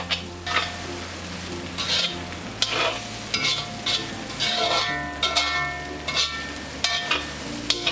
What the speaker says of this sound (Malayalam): ഇത് പൊടികളെല്ലാം ചേർത്ത ശേഷം ഒരു 10 മിനിറ്റ് നന്നായിട്ട് ഇത് ഇളക്കി യോജിപ്പിച്ചെടുക്കണം